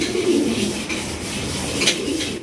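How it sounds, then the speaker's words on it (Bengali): A pair of Danish pigeons coos in a loft, a steady low murmuring that runs throughout at close range, with faint rustling and scraping underneath and no talk. "মাশাল্লাহ দেখেন কত সুন্দর এক জোড়া ডেনিশ কবুতর"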